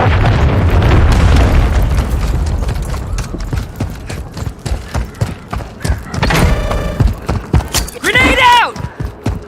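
Cruise missile blast in Call of Duty: Modern Warfare III, a heavy booming explosion up front followed by thuds, scattered impacts and battlefield clatter, with a voice shouting near the end.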